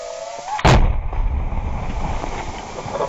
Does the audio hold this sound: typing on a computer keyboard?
no